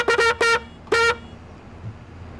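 Vehicle horn in Landwirtschafts Simulator 25 (Farming Simulator 25) honking four times: two quick toots, a longer blast, then one more after a short pause, loud and clear over a quiet background.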